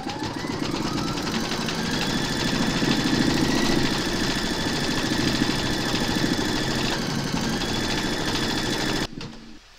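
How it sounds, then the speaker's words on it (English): A sewing machine stitches quilting with monofilament thread on a Christmas bauble card, a steady close mechanical whirr with fast rhythmic needle ticking that stops abruptly near the end. "Making sure that you've got your thread colour for the quilting loaded into your machine, you're now going to stitch round number four"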